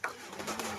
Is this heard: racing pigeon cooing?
yes